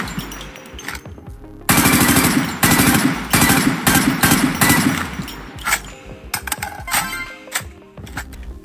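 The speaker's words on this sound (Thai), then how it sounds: "เมื่อเราทำการยิงเสียงไปเนี่ยสังเกตว่าเสียงตัวปืนเนี่ยจะเป็นเสียงเมโลดี้นะ" Gunfire from a pink singer-themed gun in Call of Duty Mobile, with a melodic shooting effect: loud rapid bursts of shots in dense runs, pausing and resuming, with no talk over them.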